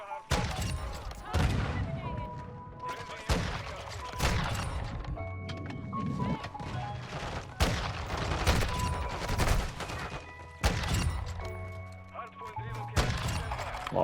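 Modern Warfare 2 gunfire, repeated bursts of automatic shots and heavy thuds in several separate volleys with pauses between them, played over a player's ongoing voice chat.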